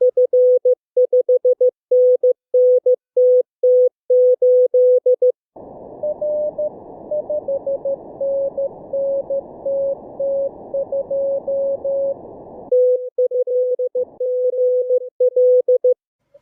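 Morse code CW tones from Morse Runner contest training software: clean, steady beeping dots and dashes in quick rhythm, a burst of hiss underneath with fainter overlapping keying, then crisp tones again, with no talk.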